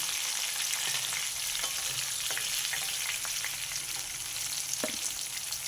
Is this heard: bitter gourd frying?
yes